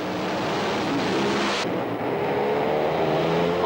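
A drag racing car at the 1997 ANDRA Winternationals, a loud continuous engine roar with the driver going on and off the throttle, the pitch dipping and recovering midway, heard from a distance with wind noise.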